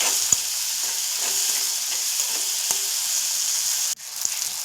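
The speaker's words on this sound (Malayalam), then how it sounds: "ഇതിൻ്റെ പച്ചമുളക് നന്നായി ഒന്ന് പോകുന്ന വരെ നന്നായി ഇളക്കി കൊടുക്കണേ" Green chilies and ginger-garlic paste sizzle steadily in a hot frying pan while a spoon stirs them, with a few soft scrapes and taps over the continuous frying hiss.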